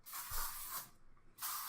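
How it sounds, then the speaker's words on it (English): Christmas-scented aerosol spray hissing in two close bursts, one long and one shorter after a brief pause, with no talking over it. "Christmas spray real quick."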